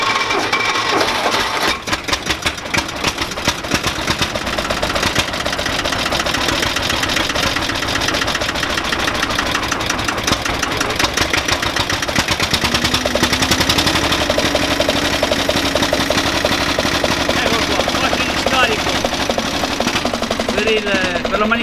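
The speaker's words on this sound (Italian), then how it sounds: "eccolo qua ragazzi, bravissimo, piccolo trattore" A small vintage farm tractor runs in low gear at a vintage agricultural tractor rally in Val di Cembra, its loud close engine chugging in a rapid, steady knocking beat throughout, with no pause.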